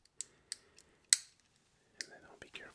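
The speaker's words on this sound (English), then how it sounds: "this one's a switch, and you can flip the switch on and off." A switch on a fidget stress cube is flipped on and off, giving a few sharp, close clicks with short gaps and one louder snap partway through. A soft rustle of handling follows.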